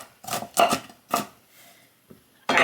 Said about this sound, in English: Let me finish chopping.